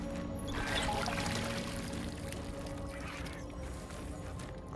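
A water pump worked in the Baldur's Gate 3 video game gives a continuous gushing, pouring water sound with mechanical churning underneath, steady and moderately loud throughout with no voices.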